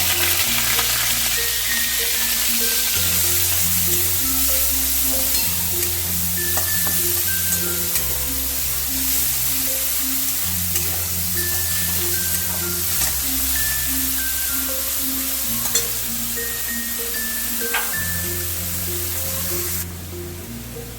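Chopped onion frying in oil over a tempering of a few cloves and a little mace, a steady hiss running the whole time beneath louder background music with a melody and bass line.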